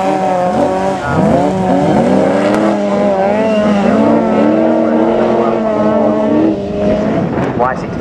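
A big Chevy-engined race car at a class 3 race meeting roars past loud and close, its engine note rising and falling through gear changes for the whole stretch, with an announcer's commentary running underneath.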